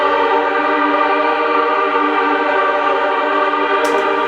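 A sustained, layered string section pad holds a dense chord with an airy, choir-like tone, steady and unbroken throughout, in a jazzy boom bap beat.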